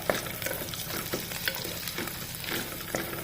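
Chopped tomato sizzles and crackles in a pan with browning onions while being stirred, soft scraping strokes recurring under a steady fry.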